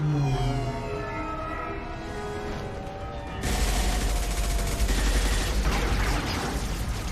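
Gunfire in the video game Mass Effect 2 erupts midway as a dense, loud burst of rapid shots layered over game music and ambience, following a calmer stretch of tones.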